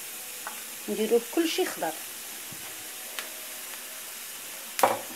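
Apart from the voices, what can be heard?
chopped vegetables and tomatoes frying in a pan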